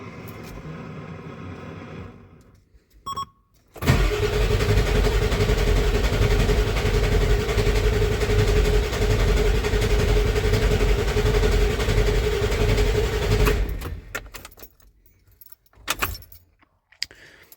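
A 1994.5 Ford F-350 Powerstroke diesel with new injectors and a new intake fires up after a brief rattle and clunk, then runs with a loud, steady, droning rumble for about ten seconds before it cuts off, leaving scattered knocks.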